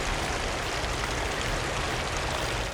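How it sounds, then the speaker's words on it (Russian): Steady, continuous rush of water pouring from a toppled water tower in the video game Ultimate Spider-Man, a dense, even flow with no other sounds. "И в игровых файлах даже остался звук той самой бегущей воды."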